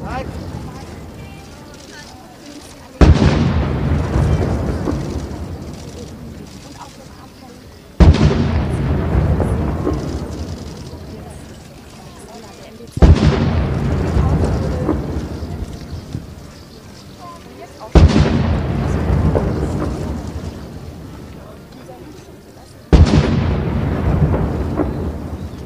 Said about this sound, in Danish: de her to prinser, de elsker kanonsalutter